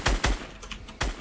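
Gunfire in Fortnite Battle Royale: three sharp, loud shots at uneven intervals, close and punchy, with quieter clatter between them and no talking.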